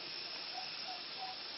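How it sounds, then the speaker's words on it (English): Steam venting from a pressure canner while cooking a bolognese sauce for canning, a steady close hiss that holds unbroken throughout. "I've started venting. The steam's come out."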